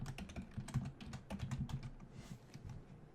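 Close computer-keyboard typing as a Java project name is entered, a quick uneven run of crisp key clicks over about three seconds, quiet and alone with no talk.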